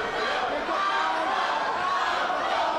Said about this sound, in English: Warrior chant breaks out